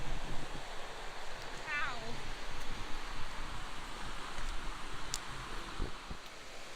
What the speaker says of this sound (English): Quadruple waterfall.